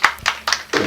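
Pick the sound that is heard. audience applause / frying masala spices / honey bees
audience applause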